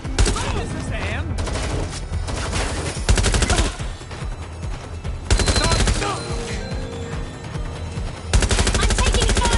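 Heavy automatic gunfire in Watch Dogs: Legion, long loud bursts of rapid shots with brief pauses between them, close and dense, with voices calling out amid the shooting.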